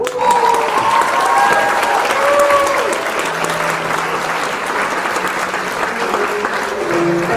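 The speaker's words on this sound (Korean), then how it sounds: "큰 박수로 축하해 주시기 바랍니다" Guests applaud at a traditional Korean wedding ceremony held for a multicultural family, a dense, steady round of clapping that fills the whole stretch with faint crowd voices and a brief cheer mixed in.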